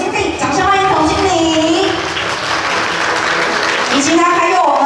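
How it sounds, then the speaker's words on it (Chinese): Applause welcoming a company general manager at a property lease signing ceremony, a continuous crowd clapping wash beneath an amplified host's voice speaking. "掌声欢迎董经理"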